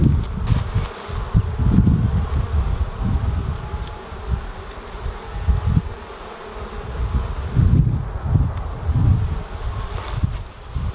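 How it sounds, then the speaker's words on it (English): Honey bees from an opened beehive on a June inspection in the UK hum in a dense, continuous low buzz that swells and fades, with wind brushing the microphone. "as you can see, super busy bees"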